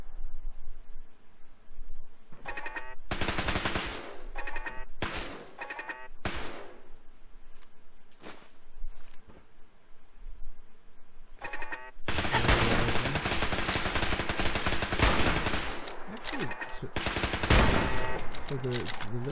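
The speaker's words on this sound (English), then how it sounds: "So the laser turrets have very poor aim, surprisingly." Laser turrets fire in Fallout 4 combat, rapid bursts of crackling electronic shots in several volleys, with a long, dense barrage in the second half.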